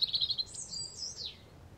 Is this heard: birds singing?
yes